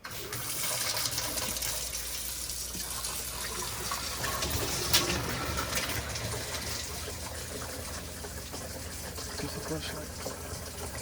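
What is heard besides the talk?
water running into newly installed RV sink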